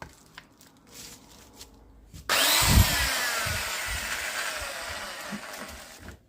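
A power drill suddenly whirs into wood for a homemade floating shelf bracket after a few seconds of faint rustling, then grinds on steadily and loudly to the end.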